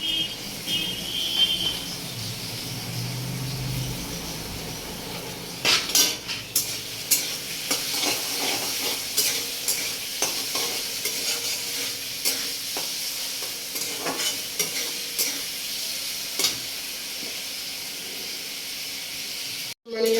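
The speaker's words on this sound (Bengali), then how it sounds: "আলুটা ভাজা হয়ে গেছে বাদামটা দিয়ে দিয়েছি" Steady sizzling of potatoes and peanuts frying in a pan, with repeated scraping and clacking of a spatula stirring throughout, ending in a brief louder burst.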